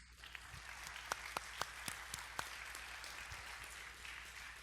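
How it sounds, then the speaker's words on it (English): An audience at a game-industry awards gala applauds the jury, a soft, steady patter of clapping with several sharper claps standing out. The room sounds fairly distant and the clapping keeps going without any talk. "Let's give them a round of applause, please"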